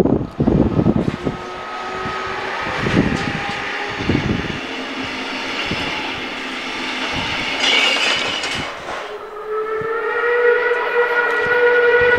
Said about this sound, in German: erwarten wir 52:80:79 mit dem Sonderzug des Lausitzer Dampflokclubs aus Cottbus